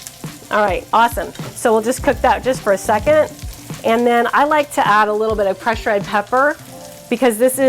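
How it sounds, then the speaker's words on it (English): Fresh sage sizzles in browning butter for a spicy brown butter sage sauce, a steady frying hiss running beneath continuous close talk. "make sound like sizzle, like it's frying a little bit"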